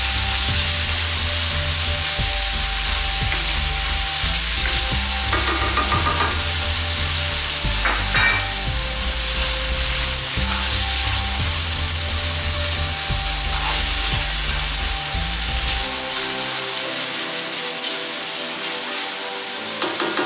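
Tomatoes frying in a pan for nasi briyani make a continuous close sizzle while a spoon stirs and scrapes through them. The frying noise drops away near the end.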